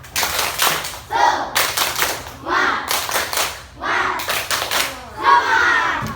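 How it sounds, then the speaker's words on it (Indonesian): Schoolchildren in an Indonesian primary school classroom perform a rhythmic spirit clap, loud bursts of patterned clapping repeating in short groups with their voices chanting in between. "Ayo semangat, tepuk semangat."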